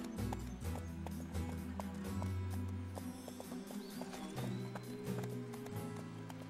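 In a video game, horse hooves clop in a steady rhythm, along with a low rumbling background and some faint higher sounds.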